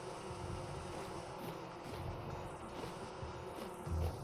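Bees buzz steadily around populated skeps in the video game Vintage Story, a dense continuous insect drone at low level with no talk.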